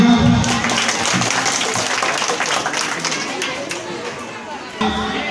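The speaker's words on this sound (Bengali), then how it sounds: "হাততালি।" An audience at a Sherpur Model School annual function claps steadily through a certificate presentation, with a dense, even patter of many hands and crowd murmur mixed in, fading slightly toward the end.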